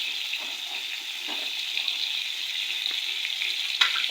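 Taro stems frying together with fish in a pan, a steady hissing sizzle held at an even level, close and continuous with a couple of faint ticks near the end, nobody talking.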